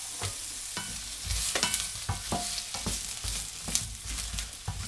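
A large onion fries in a spoonful of oil in a pan, a steady close sizzle broken by repeated scraping and clinking strokes as it is stirred, with no talking.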